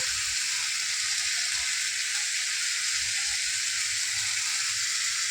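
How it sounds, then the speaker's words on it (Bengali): Spices frying in a pan as ground cumin is added, a steady, loud, continuous sizzle throughout with faint stirring sounds underneath. "এবার দেবো একটু জিরের গুঁড়ো"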